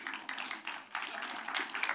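An audience claps together in steady, dense applause with rhythmic swells, fairly close and continuous throughout.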